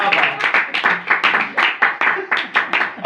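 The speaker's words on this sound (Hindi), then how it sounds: "ये दो बच्चों के लिए जोरदार तालियां" Rhythmic clapping from a group, steady bursts of applause repeating quickly throughout, fairly loud and close.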